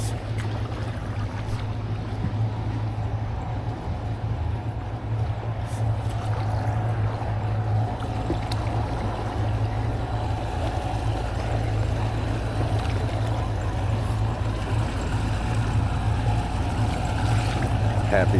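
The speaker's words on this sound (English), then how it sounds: "All right, paddling across the lake here." Kayak paddling across Torch Lake, with a steady wash of water and a low rumble running unbroken underneath; the soft splashes of each stroke blend into the continuous noise.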